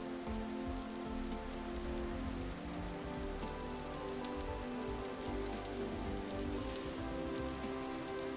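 Rain falls in the video game Vintage Story as a dense, continuous patter on surfaces, steady and fairly soft throughout, with no voices.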